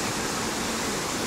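Waterfalls at night in Antalya, Turkey, a dense, steady roar of rushing water filling the air, loud and unbroken, with no voices.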